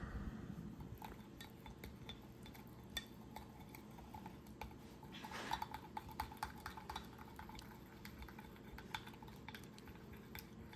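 Crackers tossed with seasoning and crushed red peppers give a long stretch of soft rattling, clicking and scraping in a container, steady and close over a constant low background hum, with no talking.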